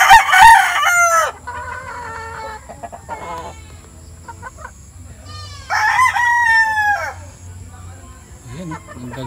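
Chickens and a rooster at a game farm in Montalban, Rizal, with loud repeated crowing bursts up close, a pause of scattered clucks between, then another long crow; a voice speaks briefly.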